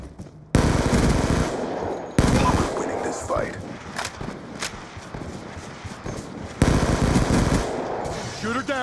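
Loud automatic gunfire bursts from the video game Call of Duty Black Ops 2 on the Nuketown map, several heavy volleys separated by short gaps, with scattered footsteps and lighter game sounds between them.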